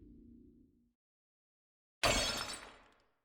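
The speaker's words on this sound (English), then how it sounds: "Just as I had gotten comfortable, another shattering sound occurred." Glass shatters in a single loud, sudden crash that rings out and fades over about a second, following a faint low hum and a stretch of silence.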